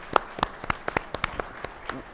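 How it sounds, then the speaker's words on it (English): An audience claps at an election-eve panel event: a short, fairly light patter of scattered hand claps that stays moderate and brief. "Let's give a round of applause to Mũthoni."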